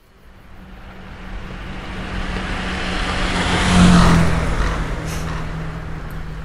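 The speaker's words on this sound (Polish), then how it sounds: "Jedzie mój nieskompilowany samochód." A car in the horror video game Scare 2 drives along on a forest road, its engine a steady rushing drone that swells to a peak midway and then eases slightly, with no talking.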